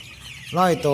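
Laying hens, about a hundred of them, cluck in a chicken house: two close, loud clucks follow a brief quiet start.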